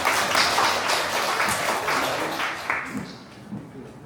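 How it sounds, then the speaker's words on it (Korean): Audience applause at a local history symposium in Korea, a dense wash of clapping that swells early and gradually thins out toward the end. "박수 부탁드리겠습니다"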